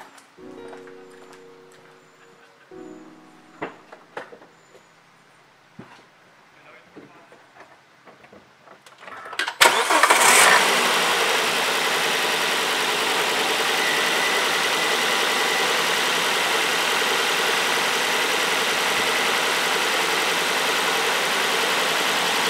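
A Volvo S80 engine cranks and starts with a sudden roar after some quiet clicks and handling noises, then settles into a steady, loud, even idle for the rest of the clip.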